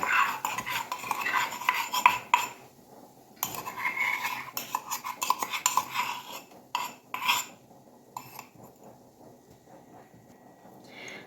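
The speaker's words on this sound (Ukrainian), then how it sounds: "а тепер все це розмішаємо" A spoon scrapes and clinks against a bowl as eggs, foam and vinegar are stirred, in steady bursts with brief pauses, close up and fairly loud.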